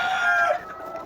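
A Romanian chicken gives a single short, bright crow-like call up close, fading quickly into quiet farmyard background.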